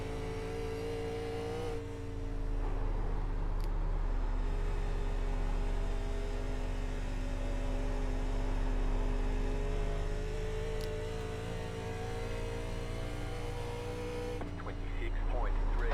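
Stock cars racing at Dover International Speedway in the NASCAR Legend Series video game, an '87 Monte Carlo among them: a steady, droning engine roar that rises slightly as cars pass and sits loud and close throughout.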